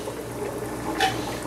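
Water gurgles and trickles steadily through an aquarium siphon hose during a tank water change, with a brief splashy surge near the end and no talking.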